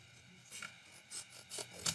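Old pair of scissors cutting material: four or five short, faint snipping and rasping strokes, quiet and close, with no talk.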